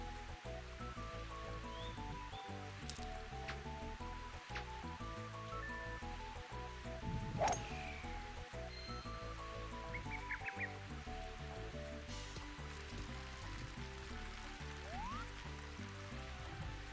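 Steady rain hiss from the Mario Golf video game runs continuously beneath tonal game music, an even, moderate wash with no talking.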